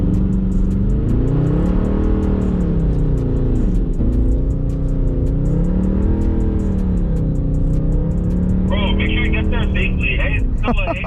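A Mercedes C63 AMG with a 6.2L V8 revs hard while drifting on snowy roads. The engine drone is loud and sustained, rising and falling in pitch as the throttle swings, with sharp crackling bursts near the end.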